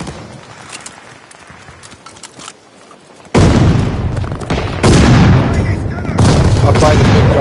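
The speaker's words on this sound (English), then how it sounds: "This guy's shooting out of nowhere." Video game gunfire, loud and close, bursts in suddenly after a quieter stretch and keeps going as a dense run of booming shots with a few extra-heavy blasts.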